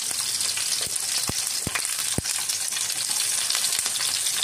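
Onions and green chillies frying in a pan, a steady bright sizzle throughout with a few soft knocks of stirring, no voices.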